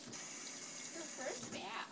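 Tap water runs steadily into a sink being used to bathe a golden retriever puppy, a close hissing splash that holds through the whole moment while a voice speaks softly over it.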